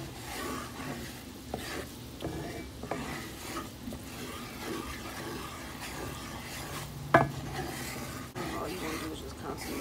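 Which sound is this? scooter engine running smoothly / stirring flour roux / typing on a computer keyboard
stirring flour roux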